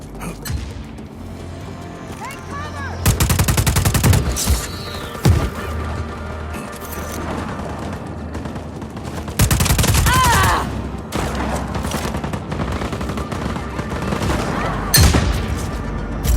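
Just Cause 4 combat: a heavy grenade blast and loud bursts of gunfire come in dense, sustained waves with booming impacts, close and intense, with occasional shouting voices.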